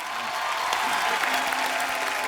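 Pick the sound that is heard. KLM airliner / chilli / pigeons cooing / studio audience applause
studio audience applause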